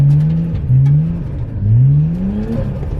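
A Nissan R33 Skyline's engine revs repeatedly, rising and falling through several sweeps, loud and close, with the car's drivetrain whirring underneath.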